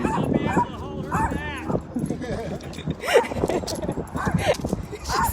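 A dog, part of a family group out on a charity walk, gives short barks and excited yips amid a busy outdoor scene, with people talking over and between the sounds.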